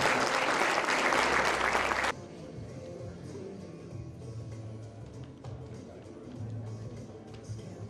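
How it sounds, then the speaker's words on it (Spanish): Audience applause at a university graduation ceremony, a dense burst of clapping for about two seconds that stops abruptly, followed by quieter room sound and a few voices. "la foto entonces y el aplauso para acompañar ese momento"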